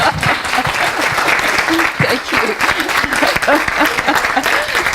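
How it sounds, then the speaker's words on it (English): Steady, loud applause from a church fellowship congregation fills the whole stretch, dense clapping with a few scattered voices mixed in. "give a big round of applause to our very own Big Kahuna, Andrea."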